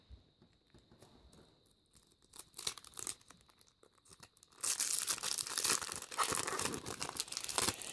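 Plastic foil wrapping being stripped off a Nordic-themed card game starter pack, with soft crinkles early on and then a loud, continuous crackling and tearing close up, no talking.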